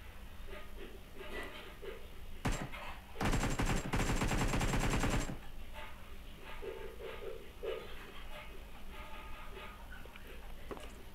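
Automatic gunfire in the mobile battle-royale game BGMI, a loud sustained burst of about two seconds after a single earlier shot, with quieter game ambience around it.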